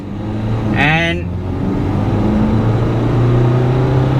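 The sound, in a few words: MG Gloster SUV accelerating at full throttle in manual sport mode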